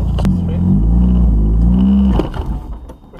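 A car engine drones steadily during a driving lesson, rising slightly in pitch as it revs, then cutting off abruptly near the end, leaving a quieter rumble; speech is present alongside it.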